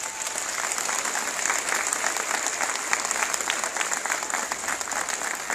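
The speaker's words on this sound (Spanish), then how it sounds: "Si vas a aplaudir, es para ti," Steady applause from an audience at a motivational conference, a thick wash of many hands clapping at a constant level throughout, with faint crowd murmur underneath.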